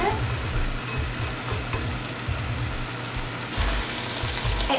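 Chinese broccoli, mushrooms and peppers stir-frying in a hot pan, a steady close sizzle with rhythmic scraping of stirring throughout.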